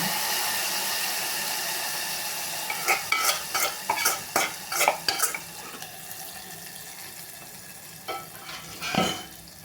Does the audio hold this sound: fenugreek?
yes